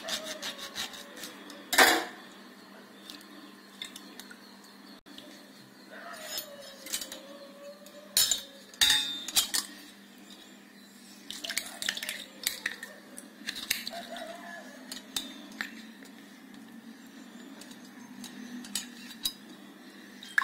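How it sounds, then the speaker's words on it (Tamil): A lemon is cut and squeezed for neer mor, a spiced Tamil buttermilk drink, giving intermittent knife scrapes, rubbing and sharp clinks against a dish, close up over about twenty seconds with faint talk at times. "அடுத்து ஒரு எலுமிச்சம்பழத்தை நல்லா நறுக்கி இதையும் பிழிஞ்சு விட்டுக்குவோம்."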